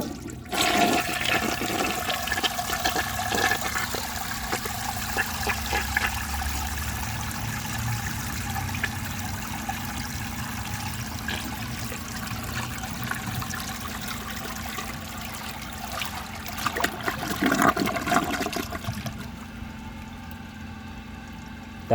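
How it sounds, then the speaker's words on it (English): A 1957 Gerber Mt Vernon siphon jet toilet flushes with a long, powerful, steady roar of rushing water. It continues for about twenty seconds, surges once more near the end, then drops abruptly into quiet. "That does seem like a fairly normal flush, but longer and more powerful."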